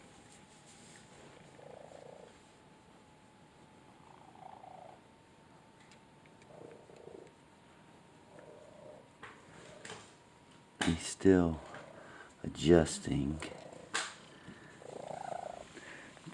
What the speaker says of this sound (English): Listen to him purr once he gets started.